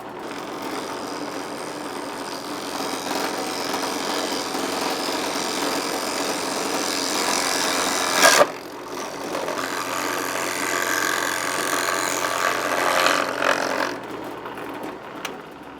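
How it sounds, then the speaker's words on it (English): A steady mechanical whir of a drill press running continuously, with a sharp burst partway through as the bit bites in, then grinding on. "I might have to go to the drill press for this."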